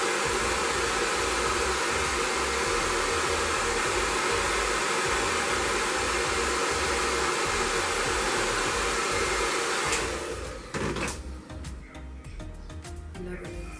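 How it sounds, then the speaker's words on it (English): A blow dryer roars steadily and loudly while drying a lace wig, then drops in level after about ten seconds and turns choppier as it is moved around. "I always take the blow dryer just to"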